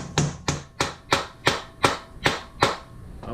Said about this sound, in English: whack it with the mallet to set it in. Let me give it a few whacks